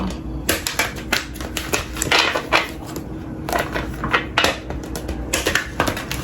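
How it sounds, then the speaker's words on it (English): Oracle cards are shuffled in quick bursts of crisp, riffling snaps and flicks, repeated several times with brief pauses between. "Give it a good shuffle."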